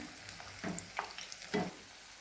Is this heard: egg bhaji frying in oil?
yes